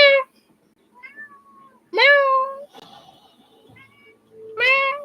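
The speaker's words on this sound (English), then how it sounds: "Play with my cat." A cat gives three distinct, drawn-out meows, close and clear, separated by quiet gaps with soft faint sounds in between.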